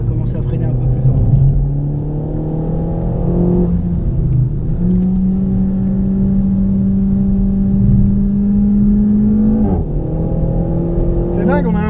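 Car on the Val de Vienne race circuit with a loud engine droning close by, its pitch sliding down in steps as the driver brakes hard, with voices talking over it.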